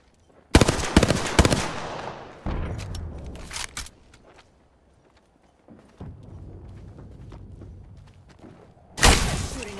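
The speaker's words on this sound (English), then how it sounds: "Shooting at me." Enemy gunfire in a video game comes in sharp, loud bursts of rapid shots, separated by quieter stretches and a near-silent gap, then one more loud burst at the end.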